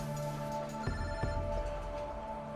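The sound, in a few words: telephone ringing, incoming phone call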